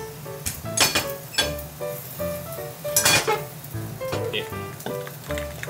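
Hot oil hits a preheated iron frying pan, sizzling loudly and close up, with repeated metallic clinks and scrapes as the pan is handled.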